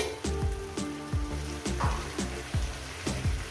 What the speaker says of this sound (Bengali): সব সবজিগুলো পাঁচ ছ মিনিট ধরে ভাজবো